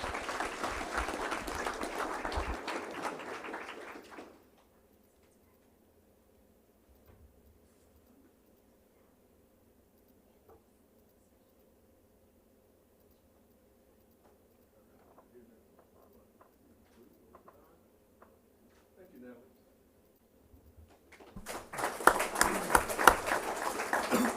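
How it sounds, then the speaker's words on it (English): Applause for Natalie at a school board meeting: a burst of clapping that stops abruptly, followed by a long quiet stretch with faint room noise, then clapping starts up again loudly near the end. "Round of applause for Natalie."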